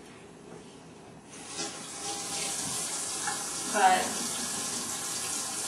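A kitchen or bathroom tap runs steadily for hand washing, a continuous hiss of flowing water that grows fuller after a moment, with a brief spoken word over it.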